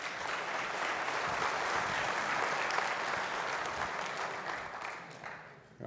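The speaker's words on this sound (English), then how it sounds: "I'm assuming that applause is for me and not Judkin." An audience at a Civil War history roundtable lecture claps for the speaker, a full, even roar of applause held for several seconds before tapering off sharply at the close.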